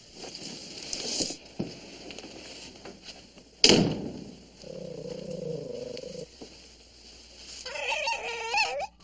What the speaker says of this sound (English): No, her dog, who she keeps with her constantly.